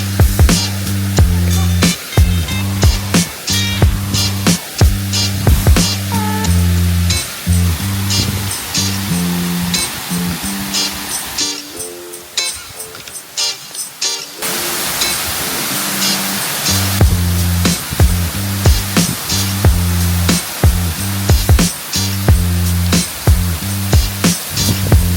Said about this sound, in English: we came to see this amazing waterfall